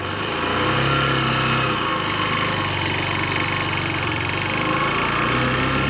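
A motorcycle engine runs loud and close while a beginner rides, a steady, strong engine drone that holds for several seconds without a break.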